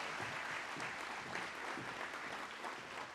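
A crowd at a Children's Advocacy Days gathering gives sustained applause for a county juvenile court judge taking the stage, a thick, even rustle of many hands clapping at once without letup.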